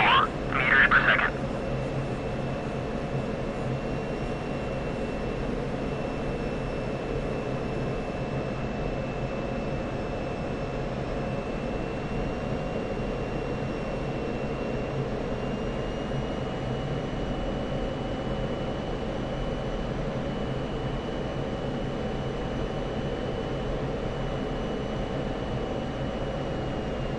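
A steady, continuous F-16 Viper jet engine drone in a flight simulator, broadband roar with faint whining tones holding level throughout, with a brief voice at the start.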